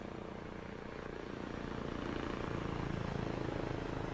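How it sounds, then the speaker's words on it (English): Helicopter in the Takistan Life video game, a steady rotor drone passing overhead with a faint rhythmic chop that grows gradually louder across the clip. "Let's wait for the helicopter to go over."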